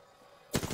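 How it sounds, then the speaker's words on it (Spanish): A short, sudden burst of rapid gunfire in the video game Apex Legends, breaking in loudly after a quiet lead-in and continuing to the end. "Estoy recibiendo disparos."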